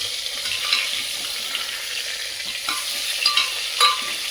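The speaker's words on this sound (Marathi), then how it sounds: "आता ही वांगी छान परतून घ्यायची" Stuffed brinjals (eggplants) sautéed and stirred in a pan at home, giving a steady, close oil sizzle with occasional scraping knocks of the spoon against the pan.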